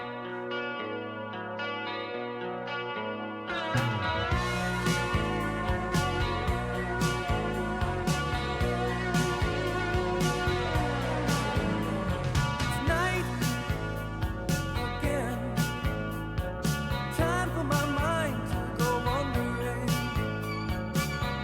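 A guitar part from a 1981 song plays as music, with a soft opening phrase followed by a fuller, effects-laden section in a steady rhythm. No one is talking.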